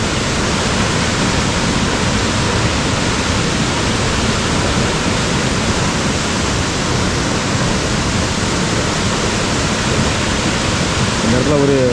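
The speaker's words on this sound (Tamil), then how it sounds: "ஆறில் தண்ணி போகிற சவுண்டு." Steady rushing river water flows loudly and continuously, a dense close wash of sound with no pauses.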